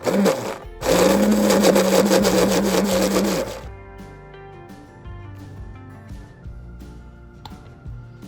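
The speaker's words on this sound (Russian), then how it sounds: "все перебиваем в блендере" A blender whirs loudly for about three seconds as it purees cilantro sauce ingredients with balsamic vinegar, tamarind paste and honey, then cuts off, leaving quiet kitchen clinks and rattles.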